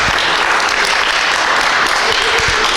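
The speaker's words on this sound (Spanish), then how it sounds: "¿Y por qué no le das un aplauso fuerte," Loud, dense applause from a church congregation fills the whole stretch, steady and close with no speech over it.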